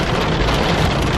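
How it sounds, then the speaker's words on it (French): Heavy torrential rain pours down steadily over a garden and terrace, a dense, constant hiss of water with no pauses, loud and close throughout. "Il pleut, mais à torrent. C'est fou cette pluie, c'est une inondation."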